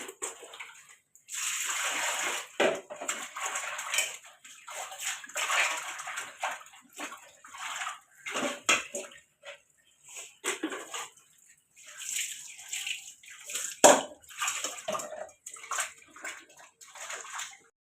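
Dishes are scrubbed under a running tap in a home kitchen: steady splashing and sloshing water with intermittent clatter, close and continuous for the whole stretch.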